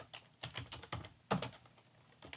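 Typing on a computer keyboard while editing a spreadsheet cell, a series of light, irregular key clicks with one louder stroke, close and quiet.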